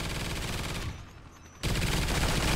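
Two placed sentry turrets in Call of Duty Ghosts Extinction mode fire dense, rapid automatic bursts, loud and close, dropping out briefly mid-stretch before resuming at full force.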